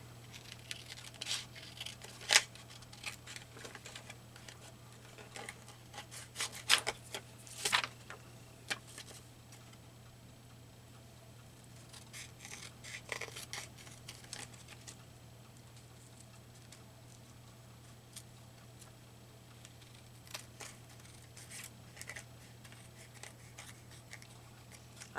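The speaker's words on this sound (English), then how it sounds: "I guess I better use my sticky scissors for this because there's glue coming out the edges." Scissors snip through glue-coated paper playing cards from a thrift-store casino set. A few faint, sparse crisp cuts come close to the microphone over a steady low hum, with long quiet stretches between them.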